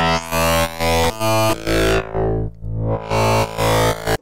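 A heavily distorted synth in the Xfer Records Serum plugin plays a series of gritty, buzzing chords in short pulses, with a filter sweep cutting the top end before it opens back up.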